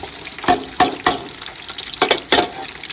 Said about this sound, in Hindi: पहले जो है ना हम डालते हैं प्याज